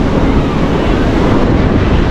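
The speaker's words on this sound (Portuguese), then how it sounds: "Eu reclamando do vento, né?" Strong wind blowing across a busy Guarujá beach with surf, a steady dense roar of gusts buffeting the microphone and breaking waves, loud and continuous with no clear voices.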